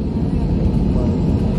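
A Spirit Airlines Airbus A321 on its takeoff roll, heard from the cabin as a loud, steady low engine roar with rumbling.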